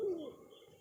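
A pigeon coos once, a short low rounded call up close at the start, then fading into quiet room noise, heard among pigeons being sold at a wholesale loft.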